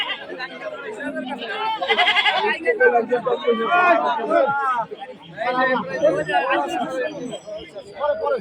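Goats bleat repeatedly amid a busy crowd of chattering voices at an Eid livestock market in Bangladesh, the animal calls rising in quavering bursts over the market babble.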